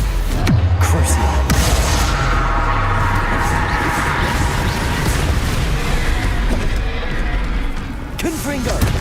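Confringo blasting spell explosions in Hogwarts Legacy, a dense, loud wall of booming blasts and bursts that runs nearly unbroken, with voices shouting over the battle.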